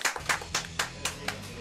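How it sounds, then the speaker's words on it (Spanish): A few people clapping, six sharp claps spaced evenly over under two seconds, close and moderately loud, with faint voices beneath. "Un aplauso para la compañera."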